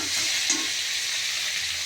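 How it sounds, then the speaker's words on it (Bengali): Food fries in a pan, giving a continuous, even sizzle up close, with a faint stir or two and no talking. "এদের একটু ভাজা ভাজা হবে"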